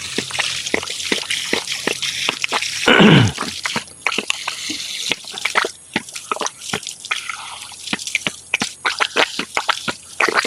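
Water drips and splashes in quick, irregular succession, with a brief gush of poured or running water early on, close by.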